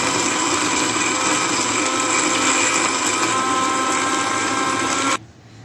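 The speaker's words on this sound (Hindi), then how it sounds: "तो हम लस्सी जो है वो अपनी मैंगो लस्सी को ब्लेंड करते हैं" Electric blender whirring steadily as it blends mango lassi with ice, a loud continuous high motor whine with grinding texture that runs unbroken for about five seconds, then cuts off abruptly into near silence.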